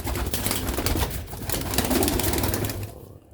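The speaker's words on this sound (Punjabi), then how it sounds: "ਇਹ ਛੱਤ ਵਾਲਾ ਕਬੂਤਰ ਟੁਰਦਾ ਫਿਰ ਤੋਂ ਵੇਖੋ" Sialkoti roof pigeons coo steadily in low, murmuring tones, with soft rustling and flutter mixed in. The sound is close and continuous before fading out at the very end.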